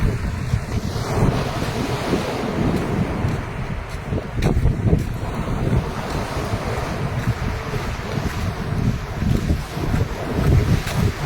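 Sea waves after a tsunami at Kiamba in the Philippines, a loud continuous wash of surf rolling in, heavily buffeted by wind noise on the microphone, with no talk.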